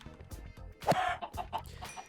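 Chickens cluck in the video game Minecraft, several short squawky clucks and bursts in close succession, fairly near and moderately loud.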